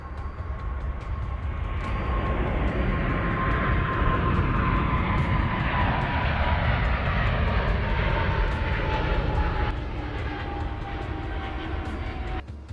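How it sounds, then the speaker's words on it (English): An airliner climbing out after departure from Moscow, a continuous broad engine roar with a faint whining tone that shifts gradually in pitch, steady and moderately loud with no voices. "The aircraft climbs gradually, and the autopilot is engaged."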